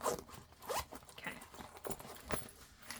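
A zipper on a fabric mini backpack is pulled back and forth in a string of short, quick rasping strokes, close and fairly soft, with no talking.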